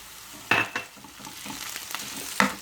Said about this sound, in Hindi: अब हम इसमें अपना चिकन डाल देते हैं